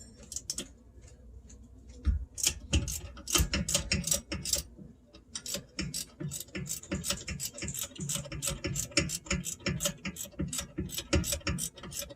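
An open-end wrench works the caliper mounting bolts on a 2019 Tesla Model 3 during a rear wheel bearing and knuckle job. It gives a close run of rapid metallic ticks and clicks that keep going with brief pauses, with no talk.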